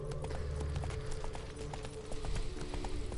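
Horse hooves clip-clop in The Witcher 3 as the horse walks through a city, a steady rhythmic trot of sharp clacks over low game ambience.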